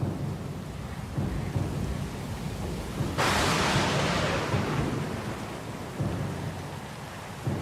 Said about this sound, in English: Lost and alone in the storm?